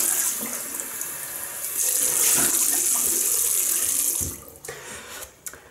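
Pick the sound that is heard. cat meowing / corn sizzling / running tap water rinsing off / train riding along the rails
running tap water rinsing off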